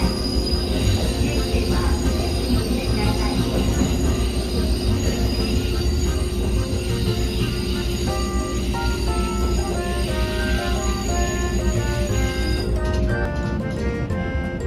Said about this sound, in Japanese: 何度渡ったのかわからないきしむ線路の鉄橋で雲出川を渡ります。